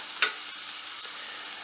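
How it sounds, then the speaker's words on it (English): A brief scrape of a utensil stirring onions in a pan, then quiet steady frying sizzle with a couple of faint taps. "And just give them a slight stir around."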